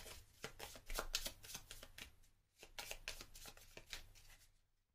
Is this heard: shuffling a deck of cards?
yes